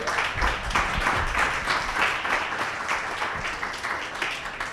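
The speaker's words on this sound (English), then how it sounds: "Round of applause." An audience at a pitch contest gives a round of applause, a loud, lively burst of many people clapping with uneven rhythm that holds steady throughout.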